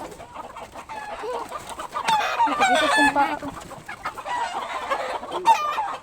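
Chickens cluck and chatter nearby, with a rooster's call rising in the middle, while a person speaks briefly over the flock.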